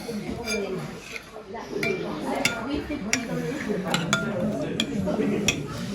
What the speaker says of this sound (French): Tu mélanges de lait avec les œufs